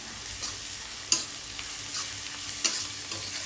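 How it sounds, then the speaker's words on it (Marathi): Masala spices stirred into hot oil with turmeric and asafoetida for eggplant bharit give a steady close sizzling hiss, broken by two sharper spatula scrapes against the pan. "त्यानंतर टाकायचा आपला मसाला म्हणजे थोडंसं हलवून घेते आधी तेलात"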